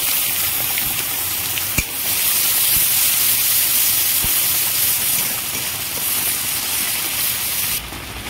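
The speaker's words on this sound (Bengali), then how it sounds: "আর পেঁয়াজ কুচি দিয়ে দেবো।" Chopped onions sizzle steadily in hot oil spiced with whole garam masala and cumin, a loud continuous frying hiss with a brief clink partway through and no talking.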